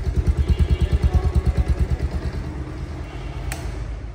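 A low-mileage Bajaj Pulsar DD motorcycle idles up close with a steady, pulsing engine thump that fades down after a couple of seconds, leaving a quieter hum.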